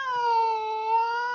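A man imitates a cat's cry, copying the call of a male puma, in one long, steady, wailing tone that is loud and close, with no other sound.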